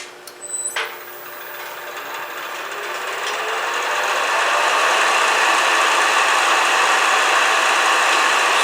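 A bottle stopper spins on a wood lathe while a 3/8 shallow fluted spindle gouge cuts into it, giving a loud, steady hissing scrape that builds after a brief knock at the start and holds on without a break.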